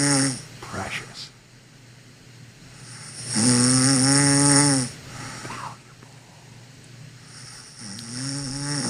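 A woman snores while asleep: a loud drawn-out snore in the middle, with shorter, softer snoring breaths before and after and quiet gaps between them.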